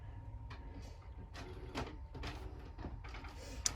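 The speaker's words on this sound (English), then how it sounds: "Wait for it to come out the printer." An inkjet-style printer running a color, single-sided job on sticker paper, giving off a steady mechanical whir and hum with repeated short clicks and shuttling bursts at close range.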